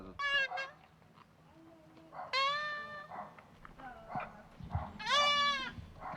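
Goats on a rocky mountain in China's Shanxi province bleat in several loud, wavering calls spaced a second or two apart, close by and moderately loud, with quieter rustling between them and no talk.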